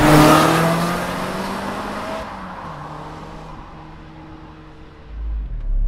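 A Lotus Elise Sport 220 near the Estoril circuit, its engine loud and close at first, then receding and fading to a low drone before a brief rise at the end.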